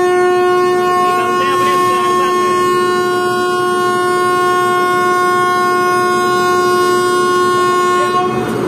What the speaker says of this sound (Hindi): काफी लंबा हॉर्न मारे भाई।